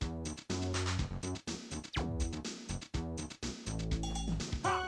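A dog barks repeatedly in the video game Rent-A-Hero No. 1, sharp yaps in a quick rhythm over game music, sometimes briefly cut to silence, with a faint clink near the end.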